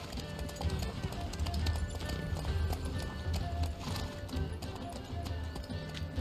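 Horse hooves clip-clop steadily in The Witcher 3 game, a continuous rhythmic trot over a busy bed of game ambience and low rumble, with faint talk mixed in.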